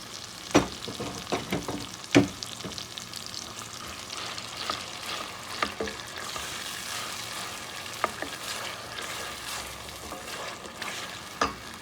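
Blended tomato and pepper mixture for jollof rice sizzles and fries in a pot, with steady close sizzling broken by occasional scraping and stirring knocks.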